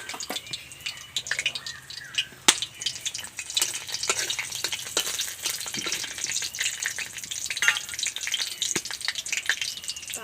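Dried chillies, cinnamon, cardamom and cloves frying in hot oil for a Bengali vegetarian mushroom dish, a steady loud sizzle with popping crackles and occasional scraping clicks throughout.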